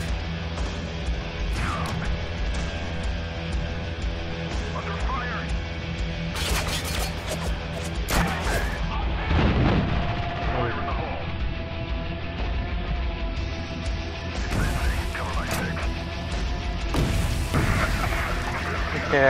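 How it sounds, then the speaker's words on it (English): Repeated grenade blasts in the video game Spec Ops: The Line, several dull booms with crashing debris spread across a dense, continuous game soundscape, with voices talking over it. "Yeah, I grenaded some."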